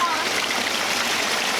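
Water spilling steadily from a newly built backyard pond waterfall, a continuous broadband rush and splash heard close up with no pauses.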